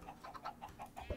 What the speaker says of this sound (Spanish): Gallina, que te voy a dar un huevazo.